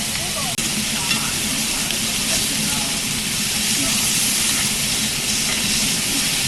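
Scallops sear in a pan at an RV campground, a loud, steady broad hiss with a low rumbling undertone and a brief knock near the start.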